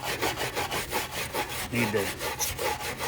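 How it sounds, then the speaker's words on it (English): Abrasive rubbing to rough up the radiator seam surface on a 1966 Chrysler Town & Country, quick rhythmic back-and-forth scraping strokes close up, with a few brief spoken words. "clean this thing up, rough up the surface and whatnot."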